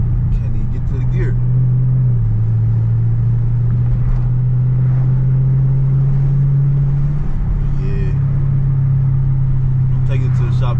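A Chevrolet Camaro SS drives through the city while jerking as it tries to shift gears. A loud, steady engine drone fills the cabin, with brief pitch drops and surges, and a voice talks over it.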